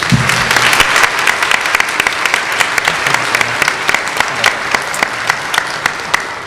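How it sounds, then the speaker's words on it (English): Closing plenary audience at a forum giving a round of applause, loud and dense clapping from many people, sustained and even for several seconds. "let's give just one more round of applause to all the folks up here"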